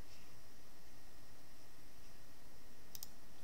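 A computer mouse clicks twice in quick succession on a web page near the end, faint against a steady low hiss, with no talking.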